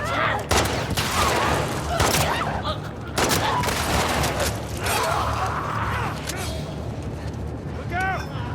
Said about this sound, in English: I'm trying to shoot the clicker.